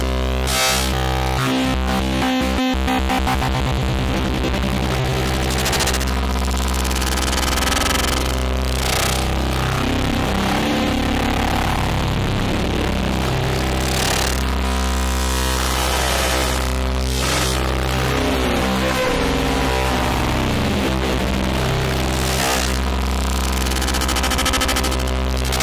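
A Harvestman Piston Honda wavetable oscillator swept into audio-rate modulation, giving a loud, continuous buzzing drone with a dense stack of steady overtones and shifting metallic, clangorous sidebands, no voices over it.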